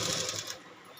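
A sewing machine stitches embroidery on a blouse in a brief, close, fast whirring run that tapers off after about half a second, with no voices.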